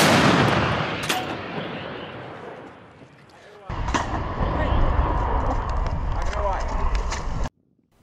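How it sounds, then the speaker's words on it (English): A Soviet Rapira anti-tank gun fires with a loud, close blast, followed by heavy rumbling reports and sustained noise, in a field setting. "this heavy, awkward to move and operate Rapira anti-tank gun, designed to be a defensive weapon"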